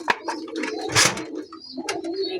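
High-flyer Giribaz pigeons coo close by, giving a few soft throaty calls mixed with brief chirps and rustling in a short burst.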